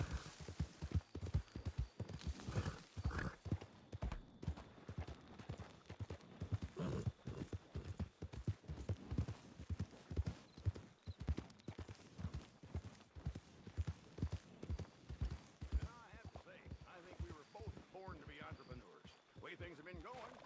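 A horse walks steadily while dragging a deer carcass back to camp, its hooves thudding in a heavy, uneven rhythm, close and moderately loud under a low hum.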